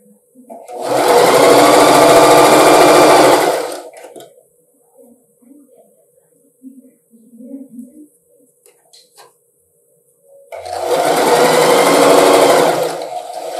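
A sewing machine runs up a dress pocket seam in two fast, loud bursts of stitching with a quiet stretch between them. Soft handling sounds fill the gap, and a voice speaks.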